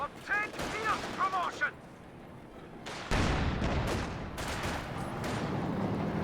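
Gunfire rattles in a video game tank battle. Loud bursts and repeated cracks fill the second half, while a voice speaks over the quieter opening.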